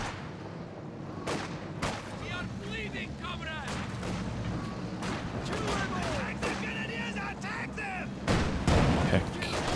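Artillery barrage and gunfire in the real-time strategy game Company of Heroes 2 during a 1v1 match, repeated booming impacts and bursts of shots through a busy battle mix, with a commentator talking over it.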